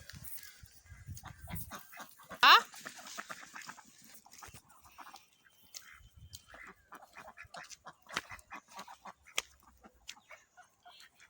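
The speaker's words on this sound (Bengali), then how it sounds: "হাঁসগুলো নদীতে চলে যাচ্ছে" Ducks on their way to a river give a scatter of short quacks and calls, some close and one sharp loud burst, with faint rustling between them.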